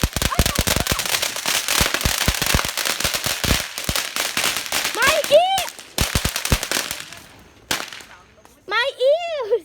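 Fourth of July firecrackers and fireworks bang in rapid, sharp bursts close by, loud and dense at first, then thinning into scattered cracks, with excited voices shouting and laughing between the blasts.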